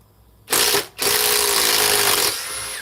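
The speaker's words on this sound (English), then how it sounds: "Sometimes I swear these impact drivers are too fast. They end up stripping everything." A DeWalt impact driver drives a screw and strips it, giving a short high-pitched whir, a brief pause, then a longer sustained buzzing run that fades slightly at the end.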